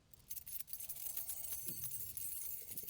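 A bunch of keys is shaken close by, giving a steady metallic jingling and clinking that continues without pause and without talk.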